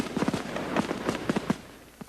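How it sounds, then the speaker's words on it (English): A large fireworks show finale over Monte Carlo, with a rapid string of dull booms and crackling bursts going off close together in an irregular barrage. "the biggest fireworks show in the history of Monte Carlo"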